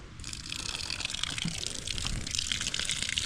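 Water poured from a container onto a campfire to drown it, a steady close splashing gush that continues for a few seconds with no talk over it.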